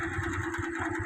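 A motorcycle engine idles at a low, steady, pulsing putter, heard fairly faint and continuous with no voices over it.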